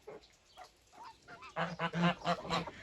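A flock of geese honks loudly and repeatedly, their nasal calls overlapping. Quieter honks come first, then the calls build into a close, busy chorus.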